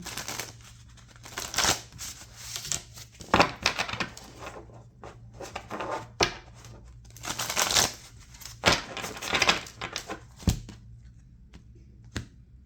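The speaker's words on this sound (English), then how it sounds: "they told me to shuffle and to break the deck" Tarot cards are shuffled and cut by hand in a quiet room. Crisp riffling and slapping bursts come in irregular clusters with short pauses between them.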